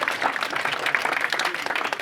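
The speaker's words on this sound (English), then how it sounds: "we give her a round of applause for a wonderful wedding" Wedding guests give a brief burst of clapping after a speech at the reception, a short dense patter of hands close by.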